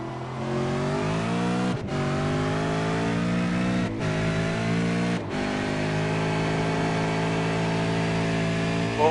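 A loud V8 Supercar engine in a racing video game at Twin Ring Motegi revs high and steady, dropping sharply in pitch three times as it short-shifts up through the gears, with no talking.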